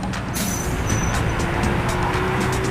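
A furniture truck goes by on the road, a loud, broad rush of passing traffic with brief hissing bursts, heard close and steady over a running engine.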